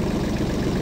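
A Kubota B2401 compact tractor's engine runs steadily at idle, a close, continuous low rumble with no voices over it.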